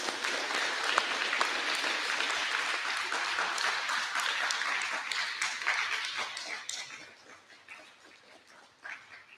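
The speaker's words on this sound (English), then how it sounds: "could we give them a round of applause one more time?" An audience at an 8th grade awards ceremony gives sustained applause for the teachers, dense clapping that gradually thins and fades toward the end.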